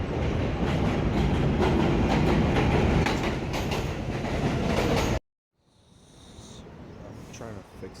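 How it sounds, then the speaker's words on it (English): Loud rumbling and clattering of a train heading toward JFK airport, steady for several seconds before cutting off abruptly, followed by quieter rail noise and faint squeals, with a voice talking. "I'm about to get on the train."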